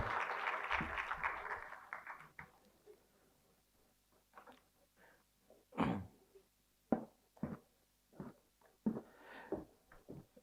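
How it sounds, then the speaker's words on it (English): Applause for the moderator and panelists at a green finance forum, starting as a dense, fairly loud patter, then thinning into scattered individual claps. "another warmest round of applause to our moderator and also panelists"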